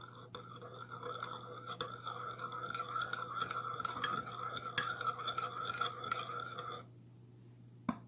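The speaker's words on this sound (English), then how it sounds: "So first in the balsamic and in the basic vinaigrette, and begin to mix" Balsamic vinaigrette with Dijon mustard is stirred in a small container, a soft continuous scraping and light clinking of utensil on vessel, close and quiet, ending abruptly near the end.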